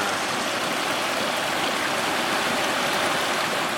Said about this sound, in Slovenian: Voda, vodica.